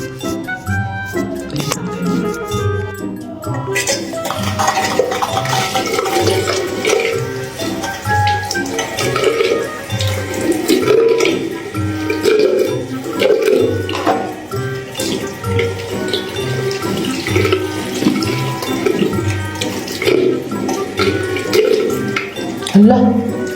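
Tap water runs steadily into a sink during face washing, with splashing and dripping throughout while a person talks over it.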